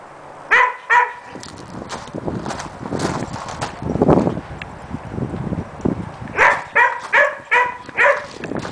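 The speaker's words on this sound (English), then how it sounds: "You being good dogs?" Dogs barking outdoors in a yard, a short pair of barks followed later by a quicker series of loud, close barks, with a whimper and shuffling noises between them.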